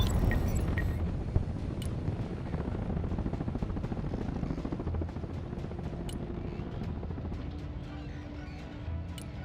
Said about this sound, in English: Helicopters.